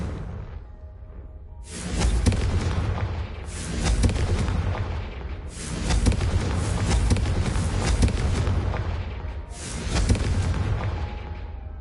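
Booming spell blasts from the Confringo blasting curse in Hogwarts Legacy, several loud explosive bursts in a row with short gaps between them, no talking.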